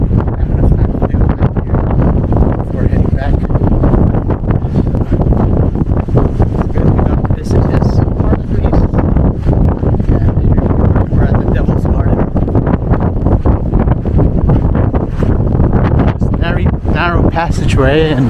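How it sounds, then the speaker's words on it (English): Strong wind roars through a rock passageway at Arches, loud and continuous with heavy buffeting on the microphone. "the wind is really strong going through this"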